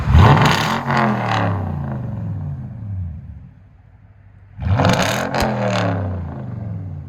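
A throaty V8 exhaust on a 2010 Toyota Tundra 5.7L pickup with a Flowmaster Outlaw cat-back system revs up twice, roaring loud and close, dropping to a low idle rumble between the two bursts.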